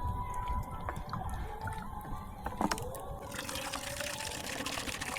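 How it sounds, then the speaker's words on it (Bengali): Drinking water is poured into a pot for boiling eggs at a jungle night campsite. The splashing pour is steady and close, with a brief clunk partway through. "চলো, প্রচুর জল দিয়েছি"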